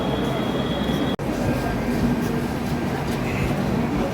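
A passenger train pulls out of a station, giving a steady, loud rumble of rolling rail cars with a faint high squeal, close by and continuous, briefly cut by a short dropout.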